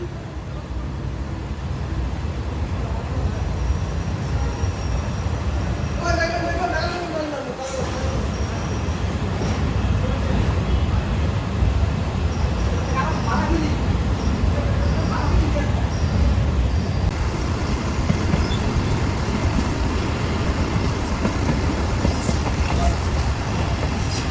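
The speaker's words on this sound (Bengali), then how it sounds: "আর ঢাকাগামী গণ অভ্যুত্থান স্পেশাল ট্রেনটি এখন শ্রীনগর রেল স্টেশন ছেড়ে দিল।" A special passenger train runs at speed after leaving Srinagar station in Bangladesh, a loud continuous rumble of wheels and carriage noise throughout, with voices talking over it.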